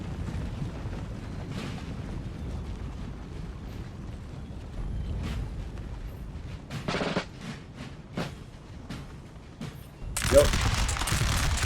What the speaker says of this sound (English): Nice volley there.